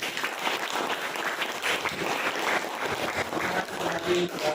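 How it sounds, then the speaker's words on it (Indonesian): A class group claps continuously during a lesson, a dense rattling applause that stays even and fairly loud from start to finish, with no voices on top. "Maka mari kita berikan tepuk tangan."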